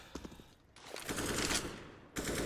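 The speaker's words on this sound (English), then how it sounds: "Gets taken down by the spray of Justin and the grenade of Stododo." Automatic rifle spray in Counter-Strike on the Vertigo map during a competitive esports match: a dense, loud burst of rapid shots lasting over a second, a brief pause, then another burst starting.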